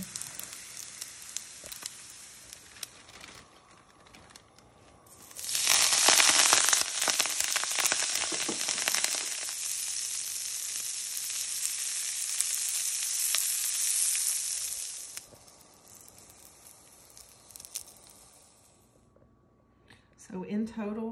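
Eggs and bacon frying in a pan: after a quiet start, a loud, bright sizzle bursts in and holds steady for about ten seconds before easing back down to a low background.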